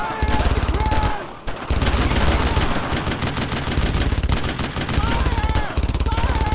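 Dense machine-gun and rifle fire from the World War II shooter Brothers in Arms hammers on almost without pause, loud and close, with shouted voices breaking through the barrage.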